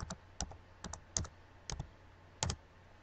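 Keys on a computer keyboard are tapped in short, irregular bursts of crisp clicks, close and fairly quiet, over a low steady hum.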